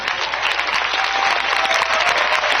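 An audience at a speech event breaks into loud, dense applause, many hands clapping steadily and evenly throughout with no pauses.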